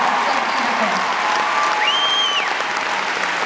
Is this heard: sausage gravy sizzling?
no